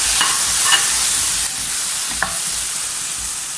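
Chunks of breadfruit and water go into a pan of fried onions and are stirred, making a steady, loud sizzle with a few soft scrapes of the spoon. There is no talking.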